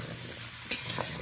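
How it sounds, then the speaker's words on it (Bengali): Ridge gourd and potato pieces sauté together in a pan, a soft continuous sizzle broken by a few scraping stirs of a spatula, close and alone. "ঝিঙে আলু একসাথে 4-5 মিনিট ধরে কষিয়ে নেব"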